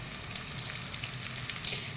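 Garlic and onion sauté in a hot pan with a soft, continuous crackling sizzle and faint stirring, quiet and steady throughout without voices.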